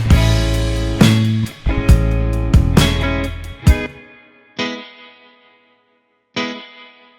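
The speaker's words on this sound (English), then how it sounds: "I got this electric guitar that just kind of signatures the snare hits." A sampled electric guitar from the Mint Sunburst Kontakt series plays distorted, effects-laden chord stabs, several quick loud hits followed by two isolated stabs that ring and decay with echo, heard alone.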